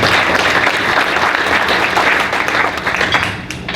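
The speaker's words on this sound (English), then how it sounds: "Give yourselves a round of applause" Dense, loud applause from an audience at a guest speaker event, continuous clapping that fades slightly toward the end.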